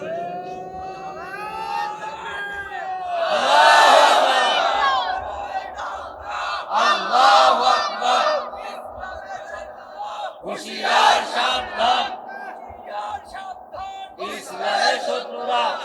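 A large crowd at an outdoor Eid-ul-Adha religious sermon shouts slogans in loud unison, the swelling cries repeating in bursts with calls from a preacher between them.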